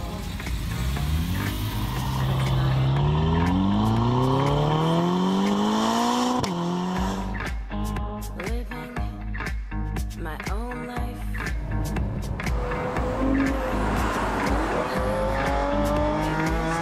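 A Ferrari from the Maranello factory drives on scenic regional roads, its engine revving up through the gears with rising whine, shifting and accelerating loudly and close, with some tire noise and no talk.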